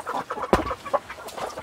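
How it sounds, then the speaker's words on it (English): Chickens cluck close by on a homestead in winter, with several short, uneven clucks and one sharper squawk, all heard alone without talk. "It's gonna be nice having all the chickens in one area for the winter."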